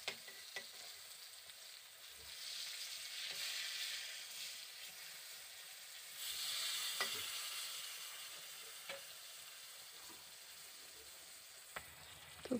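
Pieces of pointed gourd frying in oil in a pan, a steady faint sizzle with occasional clicks and scrapes as the slices are turned over.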